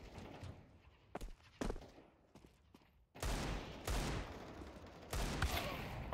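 Gunfire in the video game Counter-Strike 2, with sharp shot bursts scattered through a quieter opening, then a dense, loud barrage of repeated gunshots in the second half.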